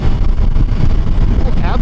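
A Honda CBR 650 with E-Clutch pulls along a highway, engine drone and rushing wind filling a short, loud, continuous stretch close to the rider.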